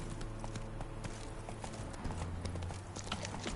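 Horse hooves clip-clopping at a steady riding gait in The Witcher 3, rhythmic and close, over a low ambient game soundscape.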